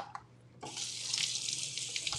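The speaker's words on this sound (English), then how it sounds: "Just rinse that off." Running tap water rinses a green mango in a sink, a steady broad splash that starts abruptly after a brief quiet moment and continues evenly at close range, with no talking.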